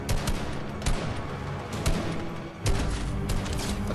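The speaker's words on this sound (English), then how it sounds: "Oh, I hear some shots." Rapid bursts of Fortnite gunfire crackle through a match, with several sharp volleys and an automatic rattle, loud and close, and no talking over them.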